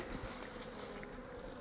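Honey bees fly around a snowy winter bee yard, a faint steady buzzing drone that stays continuous and soft throughout, with no voices.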